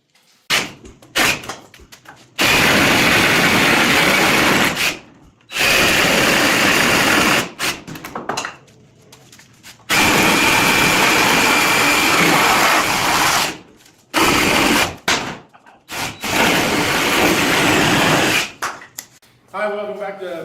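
A Sawzall reciprocating saw cutting wood for a mobile chicken coop build, heard in loud bursts of rapid buzzing with short pauses between cuts, close up.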